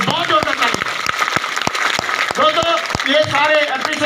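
Applause from an audience at a motivational seminar's closing session in Tatanagar, a dense spread of claps mixed with a loud voice speaking through a sound system.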